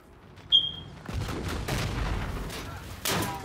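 A turret fires near a barn in an online first-person shooter match, with a sharp tone at the start followed by a dense, continuous spray of shots and rumbling booms. A heavier burst lands near the end.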